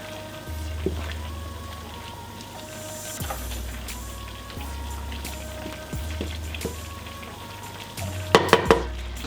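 Rice pilaf stirred in a pan over lowered heat, a steady soft sizzle with periodic scraping strokes of a spoon, ending in a few sharp clinks of utensil against the pan.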